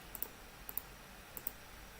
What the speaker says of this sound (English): I'm going to click on this link so I can generate an OAuth token